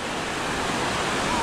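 Cambugahay Falls in Siquijor pours in a steady, dense rush of white water, close and continuous throughout the brief moment, with no distinct voices above it.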